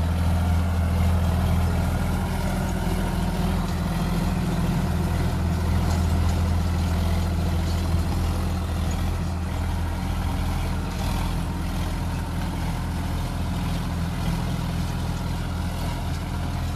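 A Sonalika 35 tractor runs with a 7-foot rotavator attached, giving a steady, loud low diesel drone that holds evenly throughout without a break.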